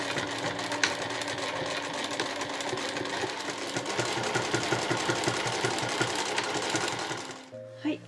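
A domestic sewing machine stitches a 1 cm seam through thick, overlapped layers of soft fabric on a two-colour shoulder bag, running in a steady rapid chatter for several seconds before stopping, with a brief clunk at the end.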